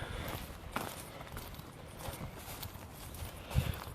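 Horses walk near an equestrian centre, hooves clip-clopping in an irregular patter of soft, moderately distant steps over a quiet outdoor background, with a slightly louder knock near the end.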